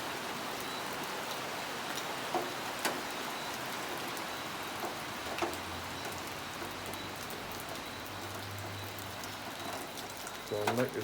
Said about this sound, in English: I'll shelter it under the church porch to the rain subside a little.